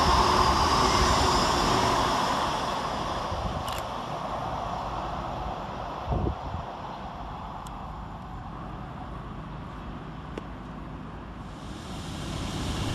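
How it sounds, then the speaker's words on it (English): An electric Class 803 train rumbles and roars through Newark Northgate station without stopping, loud at first and gradually fading, with a few brief clanks along the way. "Passing through the station is 803-001, working 1 Sierra 93 for LUMO"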